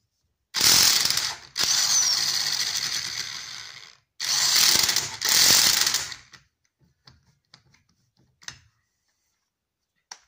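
An Elitech 350RE E electric impact wrench unscrews a nut, whirring and hammering loudly in three close bursts separated by short gaps, then a few faint clicks and taps as it falls quiet.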